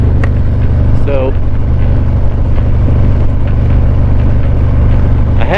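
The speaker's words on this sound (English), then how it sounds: "I am on a 2020 Harley Davidson Street Glide." A 2020 Harley-Davidson Street Glide with a Milwaukee-Eight engine drones steadily while riding, a continuous low rumble under wind noise throughout.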